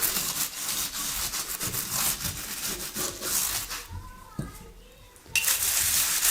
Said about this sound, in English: Let's give it a quick wipe down here.